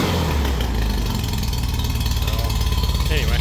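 A custom 1962 VW Beetle engine with unsynchronized carburetors runs just after starting, a loud, close, rough, steady idle with a slight rev near the end and someone talking over it.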